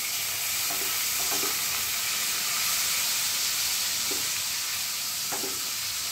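Chopped onion fries in a kadai for dhaba-style palak paneer, giving a steady, close hissing sizzle that runs without a break. A few soft knocks from stirring sound over it.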